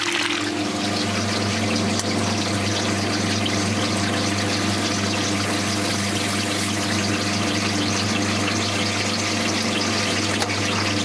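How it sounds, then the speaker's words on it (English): A vintage washing machine pumps water out with a steady loud whirring drone and rushing water, constant and close for the whole stretch, with no voices. "Okay, yeah, we're pumping water out."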